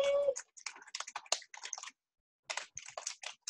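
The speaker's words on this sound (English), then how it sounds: "I'm a really slow typer, that's why I keep talking." Rapid keystrokes clatter on a computer keyboard in bursts, close and fairly quiet, with a short pause midway before a second run of typing; no talking.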